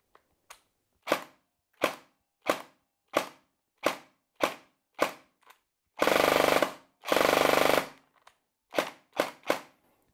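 An ICS G33 custom airsoft rifle fires a string of sharp, evenly spaced single shots, broken by two longer rattling bursts, then a few more quick shots.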